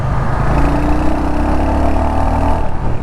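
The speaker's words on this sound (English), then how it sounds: "Man, I underestimated this 350cc engine." A 2022 Royal Enfield Hunter 350 with its 350cc single-cylinder engine, a loud continuous thrum holding steady while riding, heard close with a hint of wind and no speech.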